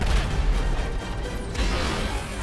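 Booming explosion in the video game GTA V, a heavy low rumble with blasts that roll on for the whole stretch, with no talking over it.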